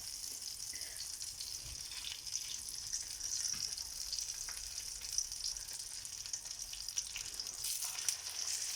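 Chicken breast pieces sizzle in a pan of melted fat for pasta in white sauce, a soft, steady frying hiss with faint crackles throughout and quiet background sounds.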